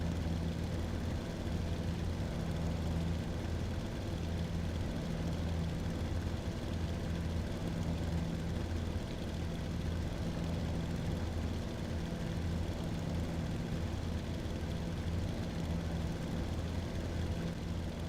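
A video-game aircraft engine drones steadily in flight, a constant low-pitched hum with a pulsing throb that never lets up, heard alone without speech.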